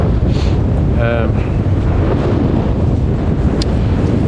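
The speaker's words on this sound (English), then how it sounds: "it's quite windy today" Strong wind buffets the microphone on an open hillside at Hampstead Heath in London, a loud, steady low roar with gusty rumble filling the whole stretch.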